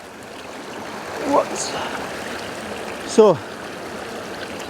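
A river flowing through Glen Etive keeps up a steady, soft rushing murmur in the background, broken by two brief bird-like chirps and a short spoken word.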